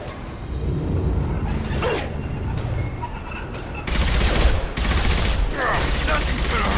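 Gunfire in the Mass Effect 2 video game, sustained bursts of rapid shots, loud and close, stronger and denser in the second half, with a voice speaking faintly underneath.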